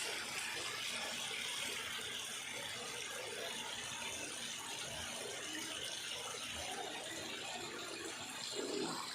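Clear spring water flows in a faint, steady stream, a soft constant trickle and wash running without pause and with no one talking.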